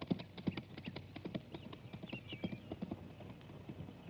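Horse hooves clatter in a quick, uneven rhythm, fairly faint, as if horses are moving off at speed.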